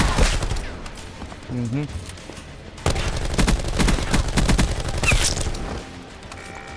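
Automated turret gunfire in Call of Duty: Black Ops 4, rapid bursts of shots in the game mix, with someone talking quietly over the action.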